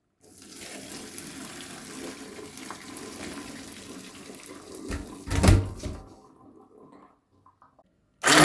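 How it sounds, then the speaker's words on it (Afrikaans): Tap water runs steadily into a sink while soaked ingredients are rinsed, then a louder splashing pour as the water is tipped out, followed by a short quiet stretch and a final splash at the end. "Dan spoel jy, gooi al die water uit"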